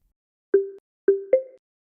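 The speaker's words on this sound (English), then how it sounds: "The startup sound will indicate Crdl is ready for use." Startup chime of a Crdl device, model B210: three short synthetic plopping tones, the last slightly higher, clean and isolated against silence.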